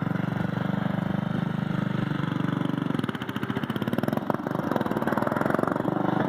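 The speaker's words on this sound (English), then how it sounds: "It's got a 12 horse Briggs & Stratton on it." A Simplicity 4212 lawn tractor with a 12 horsepower Briggs & Stratton engine runs close by with a steady, buzzy single-cylinder drone that briefly dips and pulses before settling back to an even run; no talking.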